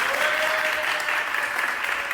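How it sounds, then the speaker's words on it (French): Dense, steady applause from a crowd, broadband clapping held at an even level for a couple of seconds with a faint tonal whine running beneath it. "applaudissements"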